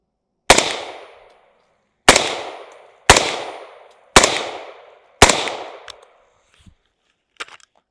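Five sharp rifle shots from a Taran Tactical V7 Sovereign firing 60- and 55-grain rounds, spaced about a second apart, each loud with a short decaying tail, followed by faint mechanical clicks.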